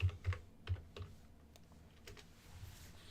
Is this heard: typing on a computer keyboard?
yes